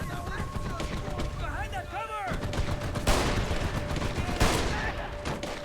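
Pistol and automatic gunfire rattle through a battle in the Xbox 360 video game Mercenaries 2: World in Flames, rapid loud shots in bursts with two sharp louder cracks standing out amid game noise.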